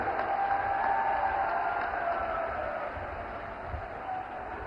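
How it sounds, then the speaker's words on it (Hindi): A large outdoor rally crowd in Morena applauds to welcome Prime Minister Narendra Modi, forming a dense, steady wash of clapping that fades slightly toward the end. "जोरदार तालियां बजाकर उनका स्वागत करें"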